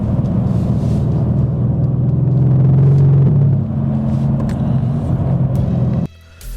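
A 2018 Mercedes-AMG C63 S coupe's engine, a German muscle car, rumbles with a deep, loud, steady drone that swells slightly mid-clip before cutting sharply near the end.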